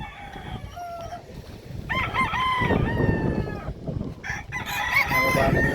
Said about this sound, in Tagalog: Dito na kami sa Manukan.